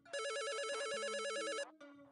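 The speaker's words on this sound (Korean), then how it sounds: "전화가 또 이번엔 또 뭐야?" A telephone rings with one long warbling electronic trill that stops abruptly, followed by faint lower tones.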